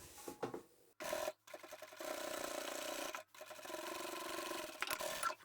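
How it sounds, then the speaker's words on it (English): A sewing machine top stitching a long seam on a bag made from fabric swatch samples, several bursts of steady motor whirring broken by brief stops, close but quiet. "I'm just going to top stitch the one side"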